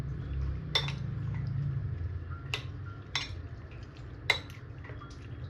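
Spoon stirring and mixing food with squeezed lemon juice in a metal pot, a soft steady scraping bed punctuated by four or five sharp clinks of utensil against the rim.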